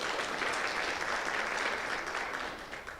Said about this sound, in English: Clap for KYMCA.